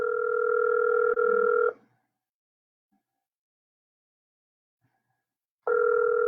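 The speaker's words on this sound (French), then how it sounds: "Donc, ça sonne." A WhatsApp call ringing tone sounds as a steady two-pitch electronic burst, cuts off into near silence for several seconds, then returns loud and steady at the end.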